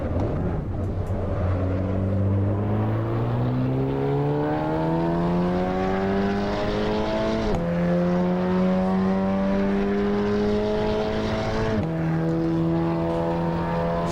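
Car engine in the Assetto Corsa Evo racing game, revving through rising pitch sweeps with sharp drops at two gear changes, a loud continuous drone close to the listener.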